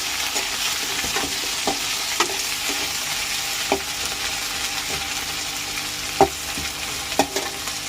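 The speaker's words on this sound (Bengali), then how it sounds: "ওই জন্য নারকোলটা ভাজতে দিয়েছি। টমেটো, লঙ্কা আর আদা দিয়ে দিলাম।" Grated coconut fries in a pan with tomato, chili and ginger, giving a continuous soft sizzle broken by scattered sharp clicks and scrapes of stirring, with no voices.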